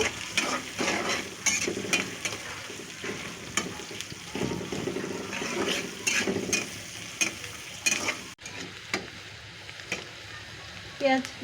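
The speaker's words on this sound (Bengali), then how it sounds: "দিয়ে দিলাম পেঁয়াজ পেঁয়াজটা ভালো করে ভেজে নিব" Onions fry in hot oil and are stirred in a pan, giving a steady sizzle with repeated scraping strokes. Speech is heard faintly at times, and the sizzle drops briefly near the end.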